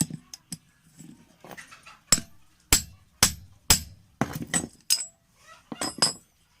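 Someone hammers on a wet grinder motor bearing to drive it out: irregular, sharp metallic knocks of varying strength, some in quick pairs, close and moderately loud, with faint clinking between blows.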